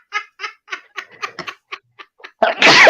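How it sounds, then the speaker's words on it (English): A short series of quick, breathy hitches builds up before a sharp, loud sneeze bursts out at the end, close by. "That one had me sneezing"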